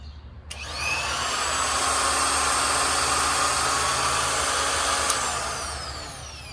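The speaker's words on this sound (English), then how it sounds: "Now let's try this grinder." Small 3-inch angle grinder, run from a portable power station, whining up to speed and holding a steady loud high-pitched spin for several seconds, close with no talking.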